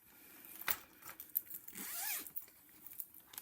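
A small zipper with a handmade pull is run briefly along a handmade project bag, a faint, quick rasping close by.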